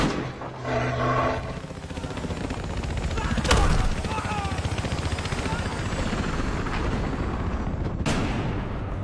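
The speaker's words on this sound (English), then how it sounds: "Chopper incoming!" Helicopter in the video game Battlefield Hardline roars continuously amid loud gunfire, with a couple of sharp blasts and game chatter in the mix.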